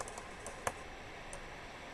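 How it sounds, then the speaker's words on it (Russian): Quiet, close keyboard and mouse clicks during an Overwatch session come in a sparse, irregular patter of sharp taps, with one louder click standing out, and no talking. "Только слышны мои клики."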